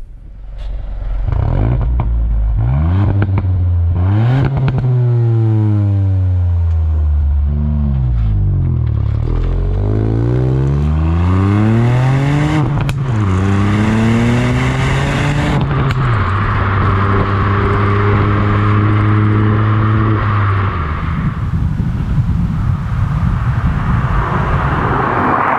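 A Ford Fiesta ST facelift engine revs hard while driving, loud and close, climbing repeatedly through the rev range with sharp drops between gear changes, then settling into a steadier drone with road noise.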